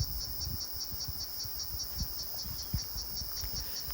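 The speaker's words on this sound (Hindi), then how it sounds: "सिकादा, जो ज़मीन से कुछ 13 साल 8 साल बाद निकलता है और बाहर निकलते ही ऐसी आवाज़ करता है।" A cicada calls in a mountain setting, a steady high pulsing buzz that carries on without pause, with low rustling underneath and no one talking.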